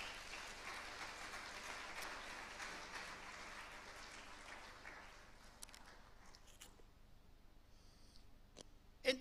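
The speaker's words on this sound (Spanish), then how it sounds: "dale un fuerte aplauso" A church congregation claps in steady applause, a dense patter that fades gradually over several seconds, leaving scattered claps and small knocks at the end, heard from some distance and fairly quiet.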